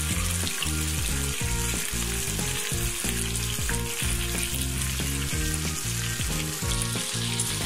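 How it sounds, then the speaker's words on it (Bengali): Rupchanda fish fries in hot oil with a loud, continuous sizzle and crackle as its second side crisps, the spatter steady and close throughout. "এখন আরেক পাশ মুচমুচে করে ভেজে নিলেই আমার মাছটা ভাজা হয়ে যাবে।"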